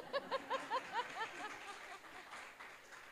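Audience applause at a panel discussion on the new Common Agricultural Policy's costs for farmers, nature and taxpayers: a short burst of rhythmic laughter opens, then soft, scattered clapping from a modest crowd continues steadily at a moderate distance.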